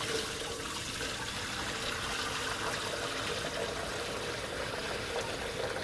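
Water pours steadily into a high-powered shrimp steamer pot, filling it to just below the grate; a faint, continuous trickling wash with no talking.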